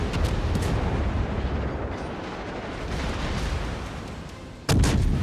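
Ship guns firing in the World of Warships video game, with a rumbling, noisy battle soundscape and booming salvos near the start and a sudden loud blast near the end.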